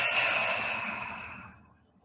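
A group of people exhales together through the mouth during a vinyasa yoga class, one long breathy whoosh that fades out gradually into near silence.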